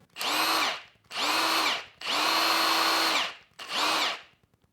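A Milwaukee Fuel mid-torque impact wrench running in four bursts, a steady high whirring motor whine that spins up and winds down each time, close and loud with short pauses between.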